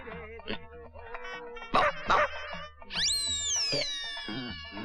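Dog barks and yips in a Hindi comedy wedding scene: a few close, sharp bursts followed by a rising, whining cartoonish tone, mixed with comic sound effects.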